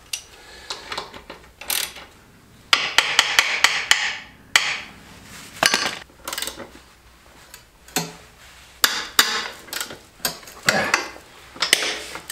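Sharp metallic clicks and clunks from tightening the front brake caliper bolts on a Suzuki GSX-R motorcycle with a torque wrench, coming in irregular close bursts with short pauses between them.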